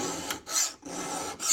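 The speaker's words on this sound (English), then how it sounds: "Just take the file and you grind away at it." A metal file rasps against a blade being shaped by hand for a simple homemade bug-out knife, in three close, loud strokes separated by brief pauses, with no talking.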